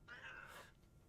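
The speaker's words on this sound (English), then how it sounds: "My cat's trying to crawl over me." A pet cat gives a single drawn-out meow, close by but faint, fading at the end over a quiet background.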